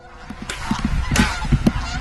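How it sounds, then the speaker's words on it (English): Several geese honk loudly and repeatedly overhead, overlapping calls from a flock against a steady background hiss. "a flock of geese appear directly overhead"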